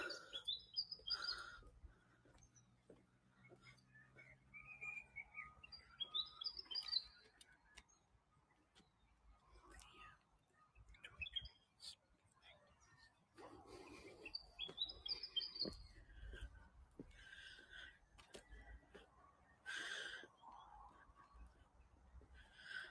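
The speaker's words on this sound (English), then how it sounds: "we briefly spotted those birds" Birds chirp and tweet in scattered, fairly faint bursts at Pensioners Hill Lookout in Gunnedah at sunrise, with quiet outdoor ambience between the calls.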